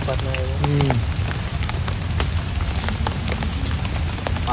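Heavy rain falling steadily outdoors, a dense continuous hiss with scattered drops tapping nearby, and a brief voice near the start.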